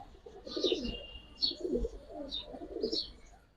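Giribaz and colored pigeons coo in repeated soft, throaty bursts close by, with a few thin chirps over a low murmur and no talk.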